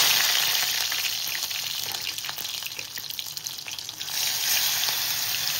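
Garlic cloves fry in hot oil with a loud, continuous bubbling sizzle that eases slightly midway and then swells again, with no voices over it.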